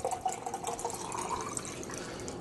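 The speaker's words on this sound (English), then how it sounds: "Now I'm going to take my cucumber lemonade, pour it into the glass" Cucumber lemonade pours into a glass, a light trickling and splashing stream with small drips, fairly quiet and continuous with nothing else over it.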